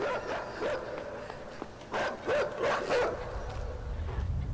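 A dog in the video game Inside barks and yips in short bursts over a few seconds, fairly close, amid in-game ambience and rumbling low noise.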